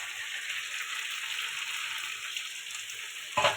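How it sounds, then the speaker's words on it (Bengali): Potatoes fry with chicken in a pan in a home kitchen, a steady dense sizzle that holds throughout at moderate level, with a brief clatter at the very end. "এবার ভালো করে কষাতে থাকবে এটা"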